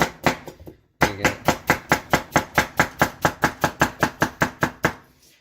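A KUTT kitchen knife chops through a carrot in a quick, steady run of about eighteen crisp, close knocks on a cutting board, after a short pause near the start.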